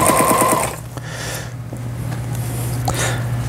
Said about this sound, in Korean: 도요타 재봉틀의 심플10이라는 재봉틀 수리를 마치고 박음질하는 영상이었습니다